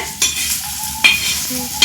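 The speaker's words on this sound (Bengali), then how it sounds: "এই তেলটা দিয়ে আমি ভেজে নিব" Oil sizzles steadily on a griddle as a snack fries, broken by three sharp scraping or stirring knocks spaced about a second apart.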